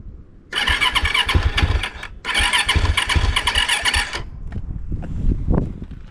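A Yamaha YZ450F dirt bike being cranked, two long loud bursts of engine turning over and catching briefly, then it sputters and dies into a few scattered knocks, with no talking.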